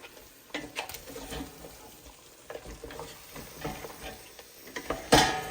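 Quiet scraping and stirring of mutton biryani in a cooking pot, irregular soft clinks and shuffles of a spoon against the rice, with a sharper knock near the end.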